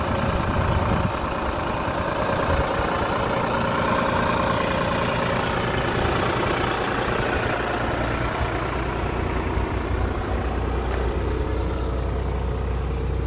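A New Holland TT55B tractor engine runs steadily with a deep, constant rumble, loud and close, without changes in pace or any voices.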